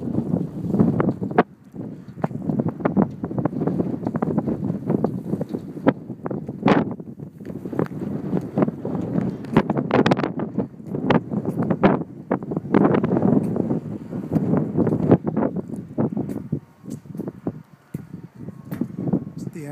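Gusty wind buffets the microphone outdoors at Copper Canyon under cloudy skies, with rumbling bursts and crackles, steady throughout.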